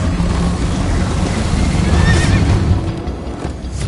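A horse whinnies loudly in Minecraft: Story Mode over a rushing, noisy background, with hoofbeats and motion blending in the mix.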